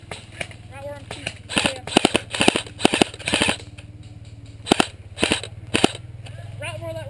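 Airsoft guns fire outdoors in several quick bursts of sharp snapping shots, some close and loud, others fainter, with voices talking between and over them.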